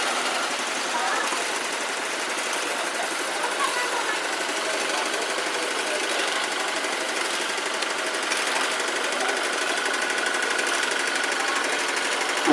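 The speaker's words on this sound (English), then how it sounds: "on this little tractor here. You can hear the revving of it." A small vintage tractor engine runs at a steam and vintage machinery show, a continuous loud mechanical clatter and drone that holds steady with slight swells, with faint background activity around it.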